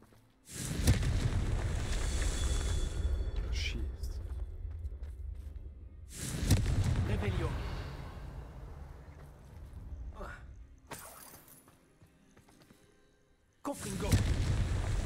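Bombarda and Confringo blasting spells go off in Hogwarts Legacy, three heavy booming explosions, each with a long rumbling decay, loud and close and spaced several seconds apart, with no talking.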